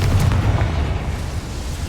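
Confringo explosion spell cast in Hogwarts Legacy, a loud, low booming blast that rumbles on steadily for the whole short stretch with no talk over it.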